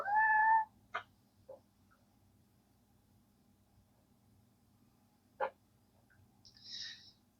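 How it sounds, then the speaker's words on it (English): A kitten lets out one loud, clear meow at the start, followed by a few short, faint chirps and a soft, high mew near the end, with no voices. "the kitten has since calmed down and doesn't chase Laredo quite as much"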